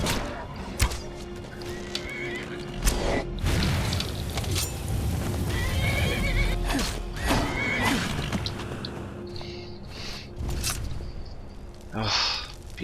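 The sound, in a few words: horse neighing in Skyrim video game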